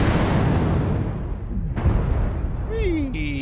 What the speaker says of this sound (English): every single shot I take is kicking out 30 missiles